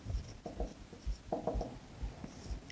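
Chalk or marker scratches across a board in short separate strokes and taps, quiet and close, while a lesson on Norton's theorem is being written out.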